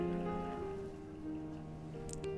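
Water falls like rain in the video game Child of Light, a soft steady patter layered under sustained musical tones, with a few faint brighter tinkles near the end and no speech.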